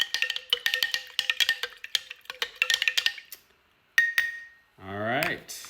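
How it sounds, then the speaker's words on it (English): A spoon clinks rapidly against a glass while powder is stirred into water, a quick run of sharp metallic taps that pauses briefly, then one final ring before a voice speaks. "Mix it up."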